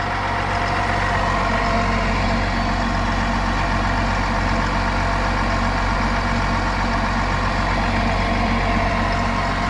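A 3.0L Duramax diesel engine in a GMC Sierra truck idles steadily with the hood open, a constant close rumble and no other sounds.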